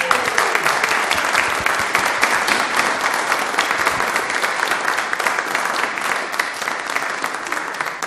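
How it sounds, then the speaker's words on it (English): A church congregation at a Salvation Army Sunday worship service in Gloucester applauds steadily and loudly throughout, a dense, even wash of many hands clapping with no clear shouting. "Big cheer and a round of applause for James."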